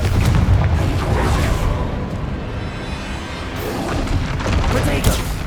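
A Confringo spell explosion in Hogwarts Legacy lands in the middle of dense combat noise, with low booms and crackling bursts over a continuous roar that swells again toward the end.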